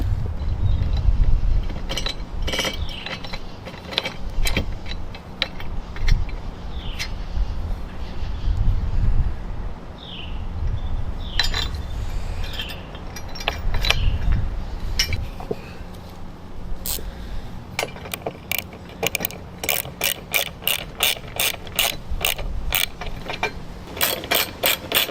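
Ratchet wrench tightening Front Runner Slimline II roof rack bolts on a Land Rover Discovery 5, heard as rapid rhythmic clicking bursts over low rumbling handling noise, with a long steady run of close, distinct clicks near the end.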